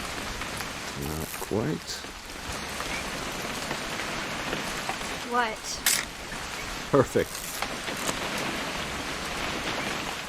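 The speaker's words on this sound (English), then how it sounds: "It's gonna rain the whole weekend" Steady rain patters on a surface throughout in the video game What Remains of Edith Finch, with people speaking briefly over it and a few sharp sound effects.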